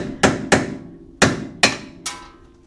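Sharp metal taps of a hammer on a chisel during a Can-Am teardown, five distinct ringing strikes in an uneven rhythm, close and fairly loud with no talk.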